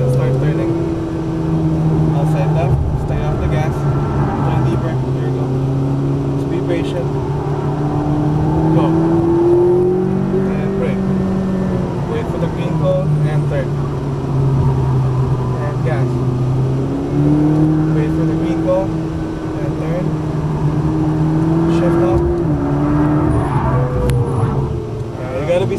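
Turbocharged exotic car accelerates around a Las Vegas racing track, a loud sustained engine drone rising and falling in pitch through gear changes for nearly half a minute, with people talking over it.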